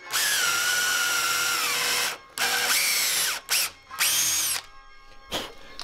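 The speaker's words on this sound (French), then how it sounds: "je vais percer à 8 mm pour faire l'emplacement de ma cheville" Electric drill boring an 8 mm hole for a dowel in a woodworking piece, loud whining bursts of a few seconds each, stopping and restarting several times up close, with no talk.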